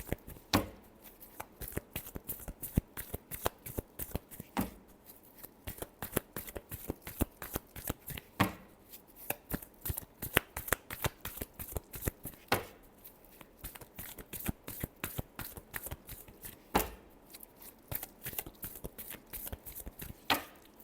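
A deck of playing cards being shuffled by hand, with repeated rapid riffling bursts and taps running steadily close up throughout, no talk over it.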